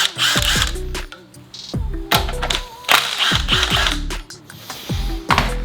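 Tools work on a Subaru EJ-series boxer engine as the AVCS oil line comes off with a 17 mm wrench, giving loud, close metallic clicks, clunks and ratcheting bursts in an uneven rhythm with no speech.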